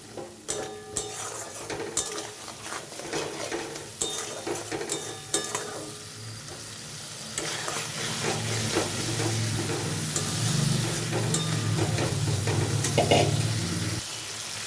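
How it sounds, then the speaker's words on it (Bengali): Potatoes and spices stir-fried with a splash of water in a pan for a Bengali dhokar dalna curry. A spoon scrapes and clatters steadily through a moist sizzle, up close, with no talking. "এখানে একটু জল দিয়ে দিচ্ছি আলুগুলোও দিয়ে দিয়েছি এখন এটা ভালো করে কষাবো"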